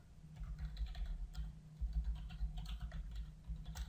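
Typing on a computer keyboard during data entry into a spreadsheet, a steady run of close, soft key clicks over a low background hum, with no voices.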